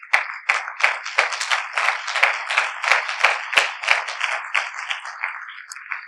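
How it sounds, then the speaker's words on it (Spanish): A church congregation claps in a quick, fairly even rhythm of distinct individual claps layered into a lively burst lasting several seconds, with sharp hand strikes standing out in the crowd. "Dale un aplauso a Jesús."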